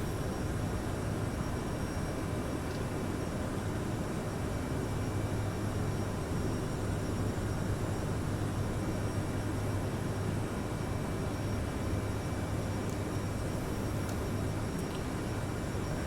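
Endeavor Air airliner engines at climb power make a steady, broad roar with a constant whine on top, unbroken for the whole stretch as heard from inside the aircraft.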